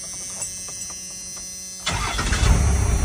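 A Dodge D150 pickup refitted with a 12-valve diesel engine cranks briefly, then catches and settles into a loud, rough diesel clatter up close.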